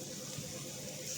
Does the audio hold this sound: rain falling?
no